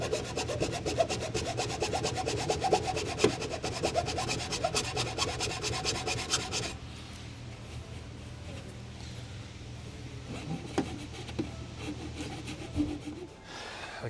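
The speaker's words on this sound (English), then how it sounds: "I'm going to come in with a file quickly and just clean these up" A hand file rasps quickly back and forth over broken plastic tabs on a Holden Colorado RG airbox, rapid close scraping strokes for about seven seconds, then softer intermittent rubbing.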